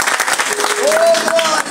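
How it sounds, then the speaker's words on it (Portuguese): A church congregation applauds during a service after a blessing of children, loud clapping mixed with voices calling out and a sustained sung or shouted tone rising over it. "Aplauda o Senhor."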